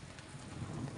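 Steady rain falls outdoors in a dense, even hiss of drops on surfaces, faint and continuous throughout with no voices.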